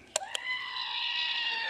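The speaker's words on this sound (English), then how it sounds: "you could just hit the screaming goat button" Screaming goat sound effect from a novelty stress-relief button: two short clicks, then a loud, sustained, wavering bleating scream heard alone.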